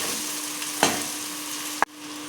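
Chicken sizzles steadily in a pan in a home kitchen, close and continuous, broken by two sharp clatters from stirring, the second followed by a brief dip in the hiss.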